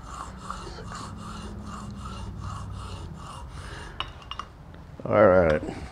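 A Lie-Nielsen rabbet block plane blade rubbed back and forth on a sharpening stone, giving a steady repeated scraping rasp of metal on stone at close range, with a brief louder burst near the end.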